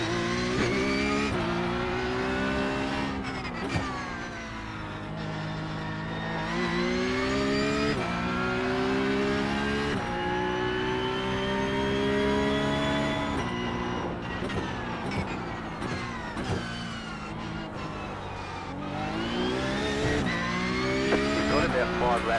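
Porsche 992.2 Cup race cars lap a circuit during a GSRC race, their engines rising and falling through repeated upshifts and downshifts, with the revving loud and continuous over about twenty seconds.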